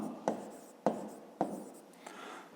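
Pen strokes on paper while working a fifth-grade maths exercise, three distinct scratchy strokes at steady intervals, close and quiet, then a softer stretch of writing at the end.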